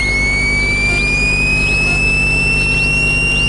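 A small aircraft engine roars at full throttle for takeoff, heard from the cockpit as a loud, constant drone with a steady high whine, without any talking.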